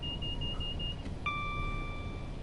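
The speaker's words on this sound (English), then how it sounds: "a little alarm will sound" A warning alarm in the train simulator Train Sim World 4 sounds as a steady electronic tone that breaks off, then returns at a higher pitch, holding clearly over a constant rumbling cab background.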